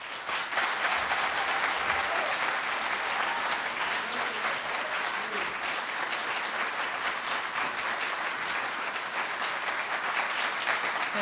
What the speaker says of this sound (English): please give her a warm applause.